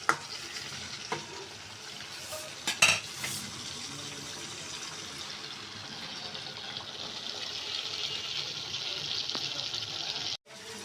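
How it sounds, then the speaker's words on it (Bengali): River gulsa fish sizzling and frying in a pan, with steady loud crackle throughout, punctuated by a few sharp stirring scrapes and clinks of a utensil against the pan. "আমি মাছগুলি হালকা করে কষিয়ে নিয়েছি"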